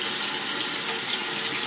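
Water runs steadily into a bath, a dense, even gushing rush that fills the whole stretch, close and loud with no talk over it.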